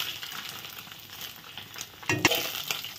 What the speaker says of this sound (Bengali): এখন মরলা মাছগুলো ভেজে নিচ্ছি।